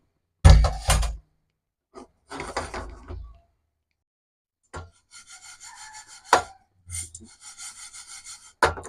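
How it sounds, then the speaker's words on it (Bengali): Moong dal is dry-roasted in a hot frying pan, giving intermittent bursts of scraping and rattling as the lentils are stirred, separated by short pauses, fairly close with no talking. "এখন আমার ফ্রাই প্যান গরম হয়ে আসছে, আমি ডালগুলা দিয়ে দিচ্ছি। মুগ ডালটা আগে দিয়ে দিচ্ছি।"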